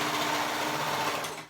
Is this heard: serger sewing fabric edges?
yes